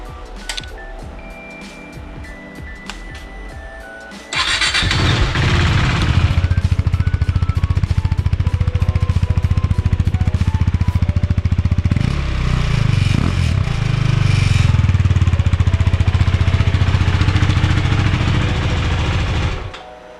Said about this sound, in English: just turn the bike on quick, give it a start up, and see what the stock exhaust sounds like